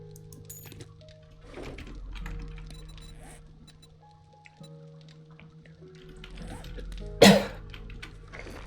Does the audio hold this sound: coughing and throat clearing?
yes